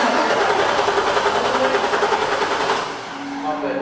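A Corvette engine revs as the gas is pumped, a steady, loud, buzzing drone that wavers slightly before dropping and easing off near the end.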